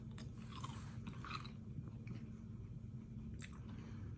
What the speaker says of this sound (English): It tastes just like what I remember candied pecans tasting like.